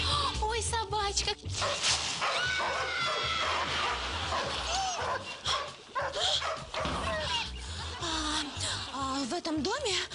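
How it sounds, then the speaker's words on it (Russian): Several dogs in a house bark, yip and whimper throughout, close and loud, mixed with people talking over them. "В этом доме очень много собак."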